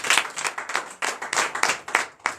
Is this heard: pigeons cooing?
no